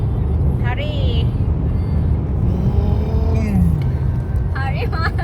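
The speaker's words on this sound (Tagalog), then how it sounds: "We drive with the Ferrari, Mahal." A Ferrari sports car drives on a European highway, a loud steady road rumble and engine drone filling the whole stretch while people talk over it.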